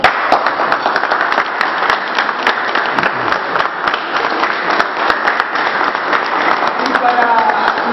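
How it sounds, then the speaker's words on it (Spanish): A crowd applauds steadily for the whole stretch at a meeting at a racecourse in Concepción del Uruguay, dense clapping that stays loud and even from start to finish. "yo le voy a pedir un aplauso"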